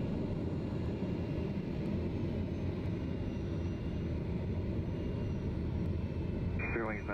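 Steady broadband drone of a TBM 930 turboprop on its takeoff roll in Microsoft Flight Simulator, a loud continuous engine roar with no clear spoken words, and a brief rising whistle near the end.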